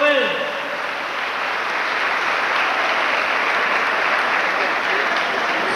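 Sustained applause from a crowd at a graduation ceremony, dense and steady for several seconds after a brief voice at the start.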